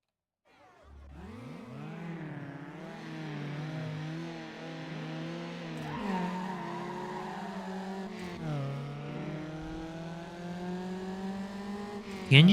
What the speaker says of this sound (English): The engine sounds in this game are so depressing.